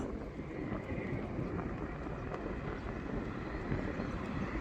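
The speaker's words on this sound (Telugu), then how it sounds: "ఇక్కడ విమానం సౌండ్ వినపడుతుంది కానీ విమానంగా కనిపించడం లేదు" A steady, broad low roar like a jet passing high overhead, constant and distant, with some wind rumble and no voices.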